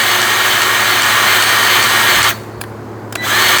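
A grease gun pumps grease into the caster pivot zerk fitting of a Toro or Exmark zero-turn mower, heard as a loud, continuous close mechanical whir that cuts off abruptly near the end with a short burst after.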